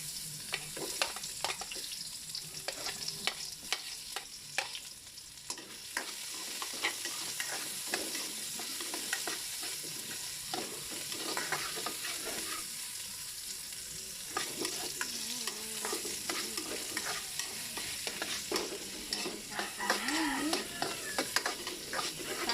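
Chopped onions sizzling steadily in a hot pan while cooking Kapampangan-style sinampalokang manok (chicken in tamarind), a continuous close frying hiss with occasional stirring scrapes throughout.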